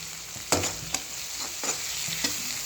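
Tomatoes with turmeric and salt cook in a pan, a soft steady sizzle with a few light stirring scrapes at intervals, quiet and close, with no talking.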